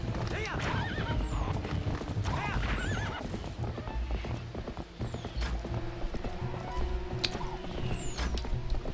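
Horse in Zelda: Twilight Princess whinnying and neighing several times over clip-clopping hooves, with a steady galloping rhythm and game effects; a voice talks over part of it.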